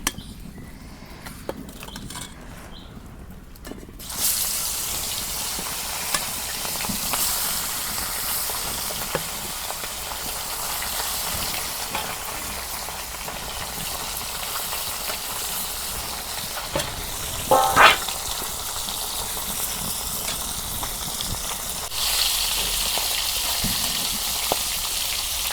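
Rupchanda fish fries in plenty of oil in a village kitchen: a continuous hissing sizzle, quieter for the first few seconds and then loud and steady, with one brief louder crackle near the end.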